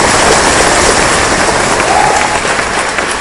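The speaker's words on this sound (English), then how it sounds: "This rapturous applause filled the Assembly Hall, which was packed with around 300 people" Rapturous applause from a packed school assembly hall of around 300 people, a dense, loud, continuous wash of clapping throughout.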